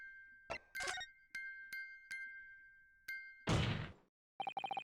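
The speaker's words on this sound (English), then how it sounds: "the sound emanating from this music box" Music box chiming from The Great Ace Attorney Chronicles, heard as sparse, sharp chime strikes spaced irregularly. A louder noisy burst follows, then a quick run of rapid pulsed tones at the end. No one speaks.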